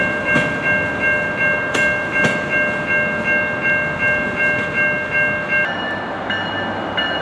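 A freight train with a caboose rolls past up close, a steady rumble and rhythmic wheel clatter under a high sustained squeal, with a few sharp knocks and a shift in tone near the end.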